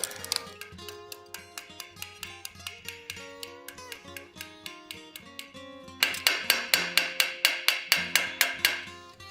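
Rapid, steady ball peen hammer blows ring out on metal gauntlet parts, about three strikes a second, each with a bright metallic ring; the hits grow louder partway through.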